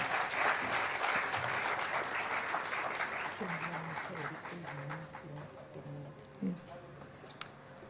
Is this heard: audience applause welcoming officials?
yes